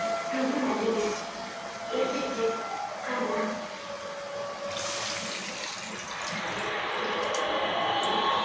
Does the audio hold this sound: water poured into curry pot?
yes